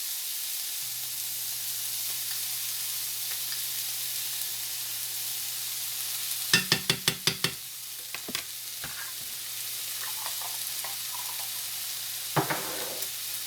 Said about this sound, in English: I'm gonna go ahead and put my minced garlic in there as well.